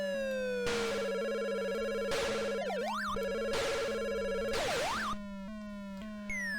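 Video game telephone ring during a Galaxian session on the Evercade, an electronic warbling trill repeating in loud bursts with steady synth tones between rings.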